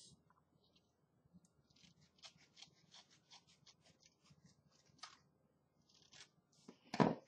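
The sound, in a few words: cutting off paper overage from a book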